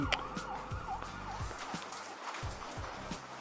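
A wailing police siren in the video game Kiosk rises and falls repeatedly under dense background noise and low thumps, loud and continuous throughout.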